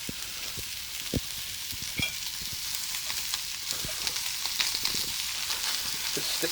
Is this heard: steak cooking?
yes